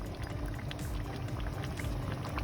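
Water boils off fast in a pot of Thai chicken vegetable yellow curry, giving a steady bubbling and sizzling that continues throughout with no talk.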